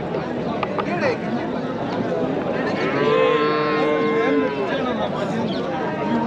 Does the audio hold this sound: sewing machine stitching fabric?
no